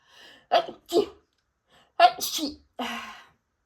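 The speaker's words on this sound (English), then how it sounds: "Need to sneeze" A few quick, sharp sneezes in close succession, near and fairly loud, with short silences between them.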